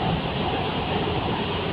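An MRT metro train on the Putrajaya Line runs with a loud, steady broadband roar of wheels and motors heard from inside the carriage, continuous and unbroken.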